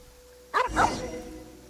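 A dog barks in the video game Genshin Impact, a single sharp bark with a short tail, heard alone and fairly faint over quiet background.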